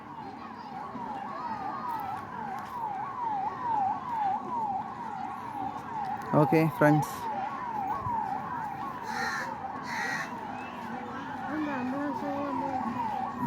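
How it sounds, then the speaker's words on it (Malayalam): A police car siren wails in a steady up-and-down cycle, moderately distant, while people talk over it on a bus and a vehicle horn sounds briefly. "ആംബുലൻസ് ആയിരിക്കില്ല, പോലീസായിരിക്കും."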